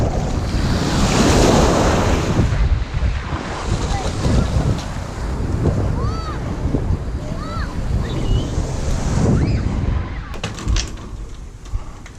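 Ocean waves breaking on a small sandy beach with strong wind buffeting the microphone, loud continuous roaring surf that swells and recedes, with faint voices briefly audible in the mix.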